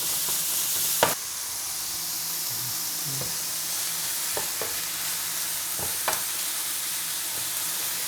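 Chicken pieces fry in a pan with too little oil and get stirred, giving a steady close sizzle broken by a few sharp scraping clicks of the utensil.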